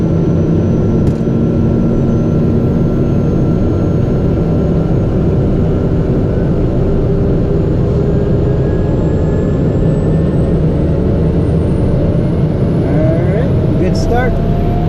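A TBM850 turboprop engine spools up during start after sitting overnight in a hangar, a loud steady roar with a rising turbine whine building over the sound, with speech mixed in.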